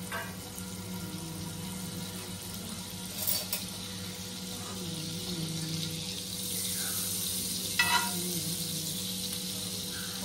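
Chicken drumsticks frying in melted cube butter and oil make a steady, soft sizzle that runs the whole way through, with a few brief clinks and splashes nearby and no talking.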